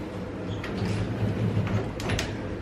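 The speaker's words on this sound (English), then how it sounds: "this door here is the closet." A closet door slides along its track with a low rumbling roll, steady and close, ending in a couple of light knocks.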